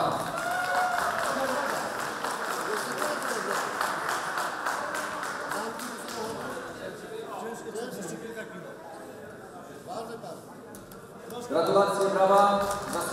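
Applause from an awards ceremony crowd for a prize winner, a Dragon winch prize at an off-road event, with steady clapping mixed with chatter and a swell of louder clapping near the end.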